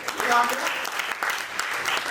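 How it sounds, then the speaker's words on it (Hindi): An audience at a business seminar claps in a dense, continuous burst of applause, with a voice briefly audible over it. "एक जोरदार ताली बजाएं अपने लिए।"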